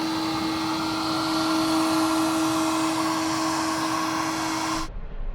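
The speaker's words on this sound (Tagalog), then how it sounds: "Yung portable charger pa lang, ingay, grabe, sobrang ingay." A portable charger for a Vinfast VF3 electric car runs with a loud, steady whine and hum, like a vacuum cleaner or hair dryer, then cuts off abruptly near the end. No talking.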